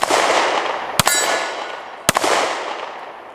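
Two sharp, loud cracks about a second apart from a Ruger Max 9 pistol fired at a target, each followed by a lingering metallic ring that fades away, with no talking.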